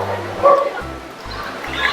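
A talking bird at Jurong Bird Park in Singapore mimics a dog, giving a run of short, yipping bow-wow barks close up in a show setting, with a low rhythmic hum underneath.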